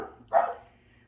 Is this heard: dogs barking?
yes